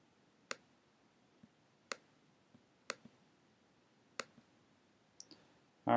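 Sharp, isolated mouse clicks while editing in GIMP, four distinct clicks spaced roughly a second apart with a few softer ticks between, close and quiet in an otherwise still room.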